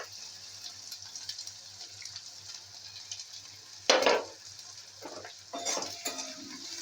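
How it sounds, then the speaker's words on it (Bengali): Sliced onions frying in hot oil with dried red chillies in a home kitchen, giving a quiet, steady sizzle broken by a few sharp scrapes and clatters of stirring. "আর কিছু না দিয়ে পেঁয়াজটা ভাজলাম।"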